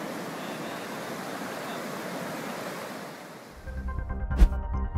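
Flash flood water rushing through streets in Mecca during a storm, a loud continuous roar of torrent that drops away near the end into lower rumbling noise.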